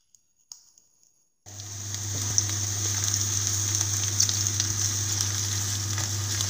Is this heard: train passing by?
no